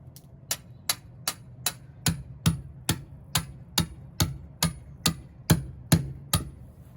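A hammer pounds stakes into rocky ground outside a shed, about sixteen sharp, evenly spaced blows at a steady rhythm, close and fairly loud, with no voices.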